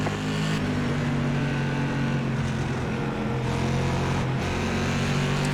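SK Modified race cars accelerating at the green flag in iRacing at Hickory Motor Speedway, a loud droning engine roar with a couple of upshifts, close and sustained, no talking.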